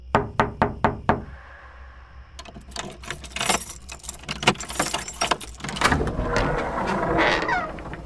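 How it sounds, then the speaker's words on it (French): A door is knocked on in a quick run of about five sharp, close raps, followed by jangling keys and rustling movement. "Elle frappait à la porte sans réponse."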